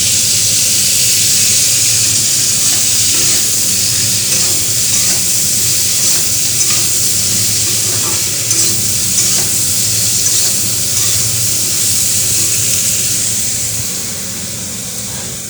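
Food fries and sizzles in hot oil with turmeric and salt, a loud close continuous hiss broken by scraping stirs, easing slightly toward the end.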